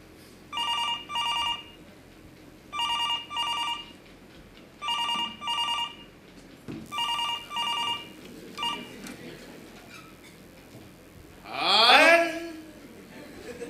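A telephone rings on stage during a theatre play, sounding in repeated paired bursts of bright trilling bells, then a short rising sweep near the end.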